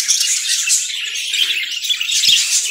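A dense chorus of small birds chirps and tweets continuously in a pet bird shop stocked with Java sparrows and cockatiels, close and loud, with occasional sharper squawks and no talk.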